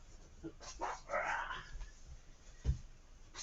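A dog makes soft whimpers and whines in a quiet school assembly hall, several brief cries close by, followed by a faint thump.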